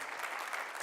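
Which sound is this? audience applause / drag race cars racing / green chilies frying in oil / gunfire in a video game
audience applause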